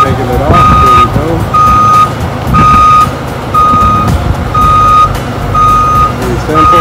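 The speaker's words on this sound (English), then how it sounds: "How you get cars on and off with a forklift right here." Steady truck reversing beeps repeat about once a second, loud and close, over a rumbling diesel engine as a forklift unloads a car from a car-carrier truck in Los Angeles; faint talk underneath.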